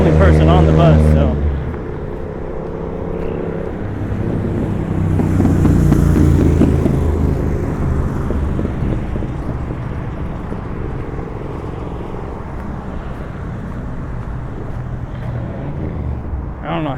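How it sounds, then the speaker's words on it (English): Loud motorcycles roar past on a busy Tempe city street, heard binaurally. A heavy engine rumble swells and fades over several seconds with a constant traffic hum around it. "especially with loud motorcycles like that coming through all day long"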